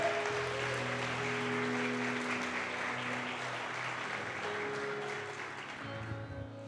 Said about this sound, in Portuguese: Quem está entendendo, dá um aplauso a Jesus.